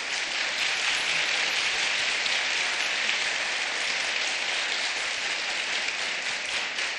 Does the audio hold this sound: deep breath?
no